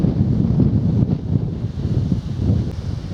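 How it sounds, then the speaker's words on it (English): Strong wind buffets the microphone on a grey coastal path, a steady rough roar with gusty swells throughout and no voices. "Wind's picking up and it's getting greyer"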